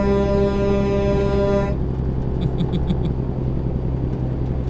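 A truck engine labors up a steep grade in the rain, a loud, steady, close drone with a strong low rumble that shifts in tone partway through and keeps pulling without a break.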